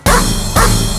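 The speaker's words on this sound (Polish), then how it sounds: "Biega, szczeka, dzieci obwąchuje i niegrzecznie podskakuje." A dog barks twice in a children's song about animals, two loud, close yelps about half a second apart over a musical backing.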